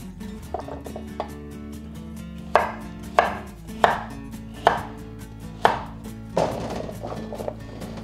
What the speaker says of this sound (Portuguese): Vamos cortar aqui a cenoura.